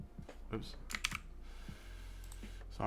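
Quick, light computer mouse clicks scattered irregularly during a live digital drawing session, close and fairly faint, mixed with keyboard-like taps and a low background hum.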